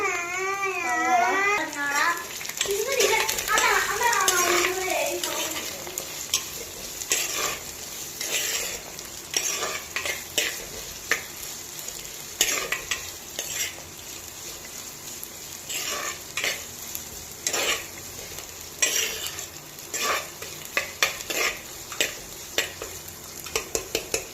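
Garlic and onion hit hot oil in a pan with asafoetida, setting off a loud, steady sizzle that keeps going under repeated clinks and scrapes of a stirring spoon. People talk now and then, and a baby cries faintly early on.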